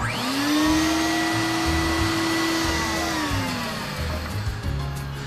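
A vinyl record cleaning machine runs with a loud, steady whining motor hum that rises as it spins up, holds its pitch, then dips and settles into a rougher whir.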